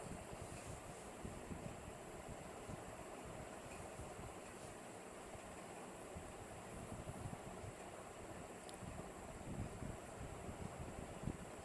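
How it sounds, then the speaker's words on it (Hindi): A sewing machine runs continuously as it stitches a zip onto a jumpsuit, producing a dense, rapid clatter over a steady motor whir with no pauses, close and moderately loud. "अब हम इस पे बड़ी वाली सिलाई लगा लेंगे ताकि हमें जिप को लगाने में आसानी हो।"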